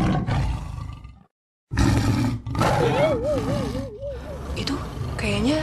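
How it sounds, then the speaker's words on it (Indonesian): A tiger roars in a village comedy film, several loud growling roars broken by a brief silent gap, with people talking and a whistling tone weaving over the later roars. "Itu kayaknya suara harimau deh."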